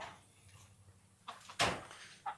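A reused wooden chicken coop door in a livestock barn shared with goats bangs shut with one sharp, loud knock, followed by a lighter clack and faint earlier rattling.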